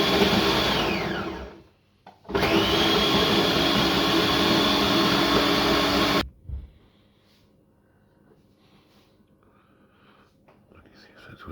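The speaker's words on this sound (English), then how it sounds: "So I have my blender here." A kitchen blender chops onions for a mutton curry, running loud and steady for about two seconds, stopping briefly, then roaring again for four seconds before cutting off, leaving quiet room noise with faint movement.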